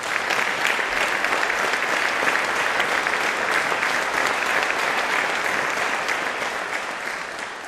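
Concert audience at the Brežice music school applauding, sustained full clapping from a large crowd that stays loud and even for several seconds and eases slightly at the end.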